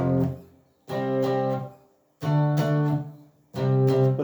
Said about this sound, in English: If you don't have overdrive, your guitar will sound like this.